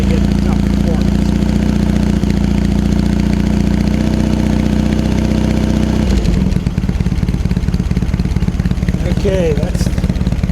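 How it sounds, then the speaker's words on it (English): A vintage Triumph motorcycle engine idles cold just after startup, a loud steady exhaust rumble that runs throughout and turns rougher and more uneven in its second half. "Okay, that's the cold exhaust note."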